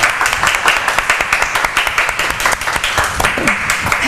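An audience gives dense, continuous clapping at a student event on Phuket, loud and close throughout, without a pause.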